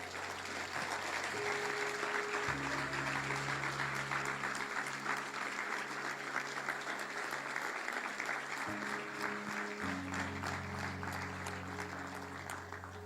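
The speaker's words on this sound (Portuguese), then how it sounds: "Aplaude o Senhor bem forte aí." A church congregation applauds loudly and continuously for about thirteen seconds, steady clapping with soft sustained musical tones underneath.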